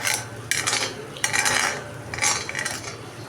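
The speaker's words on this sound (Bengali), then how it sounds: "এখন তেল ছাড়া অবধি এটা ভাজা করব।" Spice paste for a raw banana korma fries in a pan, with repeated metallic scrapes and clinks of a spoon stirring against the metal in short bursts over a low sizzle.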